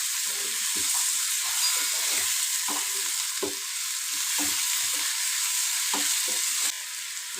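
Chopped onion and medium-size tomato fry in a pan, giving a steady close sizzle and hiss with soft, repeated stirring scrapes at irregular intervals and no talk.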